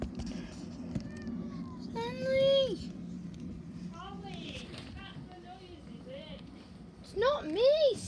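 A cat stranded on a roof and hungry meows repeatedly, with several rising and falling cries spaced through the stretch, the last ones loud and close, amid background noise and voices.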